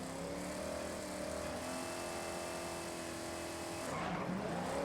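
A Dodge Super Bee launches at high RPM in the racing game Forza Horizon, its engine screaming steadily with rising harmonic tones and tyre squeal, loud and continuous with no talk.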